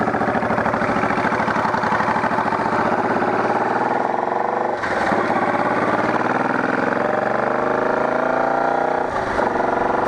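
Motorcycle engine running steadily while riding at night with the helmet visor open, a loud continuous drone with heavy wind rush and a couple of brief dips as the throttle shifts.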